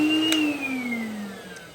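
Dyson DC01 vacuum cleaner running on American 120 volts rather than 240, a steady motor whine that slowly drops in pitch, with a faint brief click partway through.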